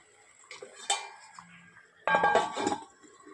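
A metal lid set on a cooking pot of simmering bottle gourd, a couple of quiet clinks and a brief rattling clatter as it settles, close but faint.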